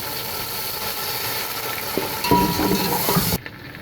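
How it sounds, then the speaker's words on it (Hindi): Beef frying in a pot with onions and garam masala, a steady loud sizzle with a burst of stirring and scraping partway through before it settles back. "ताकि गोश्त हमारा अच्छी तरीके से फ्राई हो जाए"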